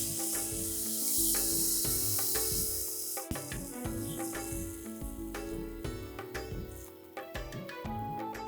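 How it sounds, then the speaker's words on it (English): Dal is tipped into cooked tomatoes sizzling in a pressure cooker for restaurant-style dal makhani, giving a loud, continuous close-up frying hiss with bubbling crackle and a few knocks and clinks of a utensil against the pot. "and now I'm going to add the dal."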